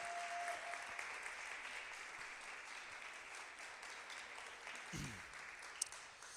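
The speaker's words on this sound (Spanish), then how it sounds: "Nos pueden ayudar levantando su mano y les damos un aplauso." A church congregation applauds to welcome first-time visitors during a Spanish-language service, a steady, moderately distant wash of clapping that holds evenly throughout without any speech.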